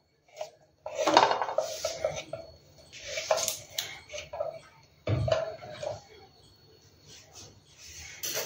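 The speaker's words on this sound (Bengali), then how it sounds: "এবার আমি আর একটু এখানে ঘি দিলাম, কেননা সুজিটা ভালো করে ভাজতে হবে" Semolina frying in ghee in a pan, stirred with a metal spoon that scrapes and clinks against the pan in irregular bursts separated by short quiet gaps, close with no clear talking.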